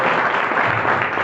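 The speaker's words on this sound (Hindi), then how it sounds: "तो अभी आकाश सर के धन्यवाद के रूप में एक बार जोरदार ताली बजाइए।" Loud, dense applause from an audience at a network marketing training event, a steady roar of many hands clapping at once throughout.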